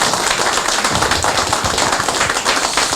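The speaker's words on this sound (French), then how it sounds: "ça mérite une main d'applaudissement" Scattered hand claps from a small audience at a book launch for a book co-written with Serge, a dense and steady patter of clapping that lasts the whole stretch with no voices over it.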